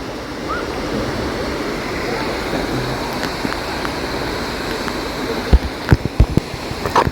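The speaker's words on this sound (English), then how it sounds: "we're at Dunn's River Falls" Dunn's River Falls in Jamaica roars as a steady, loud wash of falling water, with a few knocks and bumps toward the end.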